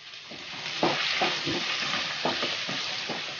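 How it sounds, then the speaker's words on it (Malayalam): Onions frying in a pot for vegetable biryani crackle and hiss steadily, with regular stirring knocks and scrapes up close. "ഉള്ളി ഒന്ന് ലേശം ഒന്ന് വഴന്ന് വരുമ്പോൾ"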